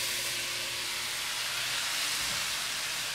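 Steady broadband hiss of meat sizzling in a hot pan, continuous and even throughout with no voices.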